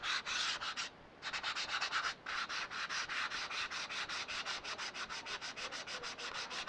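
Rhythmic sanding of wood, quick back-and-forth scraping strokes repeating steadily and close by, with one brief pause near the start.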